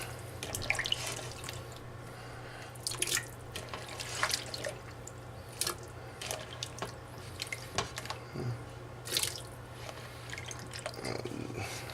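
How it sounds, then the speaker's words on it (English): Potatoes lifted out of a bowl of cold water and dropped into a pot while making beef stew, with scattered drips and small splashes over a steady low kitchen hum. "I'm just gonna take out of the cold water, place right in."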